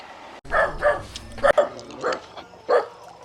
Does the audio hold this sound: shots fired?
no